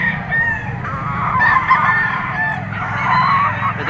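Yellow-legged bull stag chickens at a Batangas auction market crow and squawk in short overlapping calls, set against a dense, noisy crowd background.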